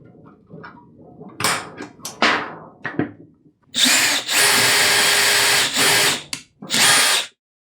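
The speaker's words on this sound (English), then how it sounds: "We can go ahead and drill these." A power drill whirs up in several sustained bursts, drilling holes for a DIY vacuum-former heat box, loud and close, after some handling clatter and short trigger blips.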